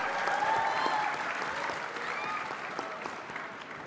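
Audience applause at the IFSE 2024 event, a dense steady patter of many hands clapping in a large hall, moderately loud and sustained throughout.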